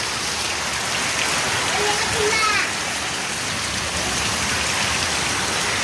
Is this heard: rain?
yes